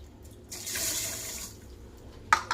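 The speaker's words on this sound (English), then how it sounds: "Get a full cup of water 2 times." Water runs and splashes as a full cup is filled for cooking rice, a soft steady pour lasting about a second, followed by a couple of small clinks and drips, fairly quiet with no speech.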